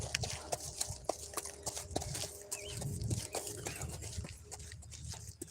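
Hooves of Jojo, an 11-year-old thoroughbred mare in a park, clip-clop in a steady walking rhythm, fairly close, over a busy outdoor background.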